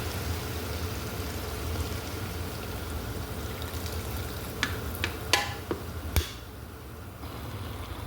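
Garlic in a pan gives a steady frying sizzle, close and continuous, joined by a few sharp clinks of a utensil as 7-up is added.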